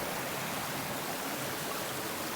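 River water near hot sulfur springs in Manito, Albay, flowing in a steady, broadband rush with no breaks, close and even throughout, like a stream running over rocks.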